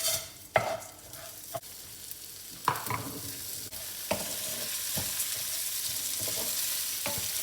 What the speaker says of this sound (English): I'm just stirring it so that when you bake it, the rice will not stick to one another